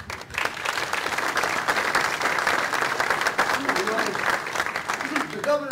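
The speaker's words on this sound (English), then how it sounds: "they deserve a round of applause" An audience at a public meeting on the Tappan Zee Bridge at Rockland Community College claps steadily after a presentation, a full, even burst of applause lasting several seconds before a voice starts speaking near the end.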